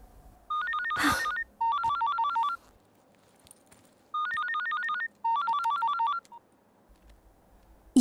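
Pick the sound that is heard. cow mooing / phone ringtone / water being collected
phone ringtone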